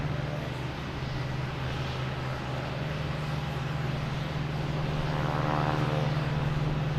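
Aer Lingus airliner in old-style livery at Boston Logan Airport, a steady engine drone with a strong low hum holding throughout and swelling slightly near the end, heard alone at a distance.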